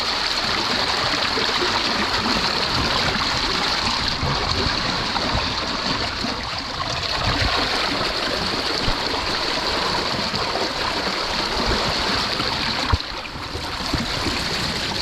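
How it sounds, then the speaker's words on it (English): A strong spring tide runs out to sea from an estuary in northern France, a continuous loud rushing of fast water heard near and steady throughout, with no voices. "This is the tide exiting Les Albrieux, going back to sea on a spring."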